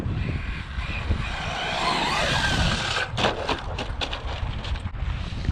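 A Traxxas Slash 4x4 RC truck with an MMX6S setup drives over rough ground outdoors, with a steady motor whine, wind rush and scattered crunching impacts from the terrain, and no voices.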